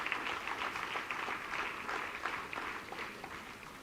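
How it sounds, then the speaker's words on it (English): An audience at a college foundation day award ceremony claps for an award recipient, a dense, even round of applause heard somewhat distant and moderately quiet, holding steady throughout. "A huge round of applause, please."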